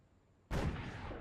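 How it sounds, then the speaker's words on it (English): A naval destroyer's guns fire in Sudden Strike 4, a single loud booming blast cutting in after a quiet lull, then rumbling out as it decays. "The destroyer is ready to fire."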